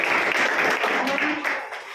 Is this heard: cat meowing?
no